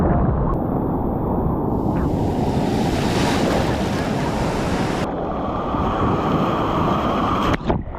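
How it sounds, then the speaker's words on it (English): Large ocean waves break on a Costa Rica beach, a loud, continuous roar of surf heavily buffeted by wind noise on the microphone throughout, with a brief knock near the end. "The waves are huge here though."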